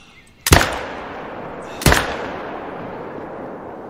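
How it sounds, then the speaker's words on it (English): Two sharp rifle shots ring out in the hunting game theHunter: Call of the Wild, about a second and a half apart. Each loud crack trails off into a long echoing rumble. "You're shooting something?"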